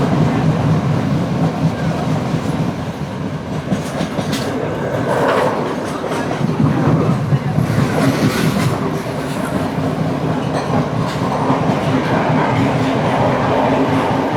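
Passenger train running along the Indian Ocean coast south of Colombo, with a continuous loud rumble and clattering wheels from close inside the carriage and occasional squeals over the steady roar.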